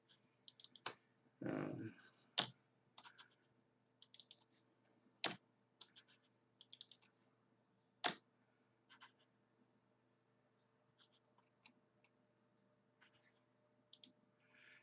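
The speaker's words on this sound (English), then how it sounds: "I'm just typing a letter of the alphabet" Scattered individual keystrokes on a computer keyboard, sparse and irregular with occasional quick double taps, quiet and close in an otherwise still room.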